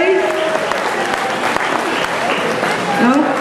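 An audience at a cosplay award ceremony at a convention claps for a winner. The applause is loud, dense and continuous, carrying on for the full few seconds with crowd noise mixed in.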